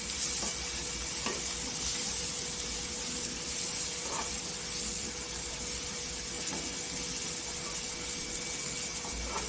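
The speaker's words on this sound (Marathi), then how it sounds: "एक चमचा मसाले तेलावर छान असं परतून घ्यायचं" A spoonful of spice masala, including pav bhaji masala and Kashmiri red chilli powder, sizzles in hot oil for a cauliflower curry, giving a steady, close frying hiss with faint stirring scrapes.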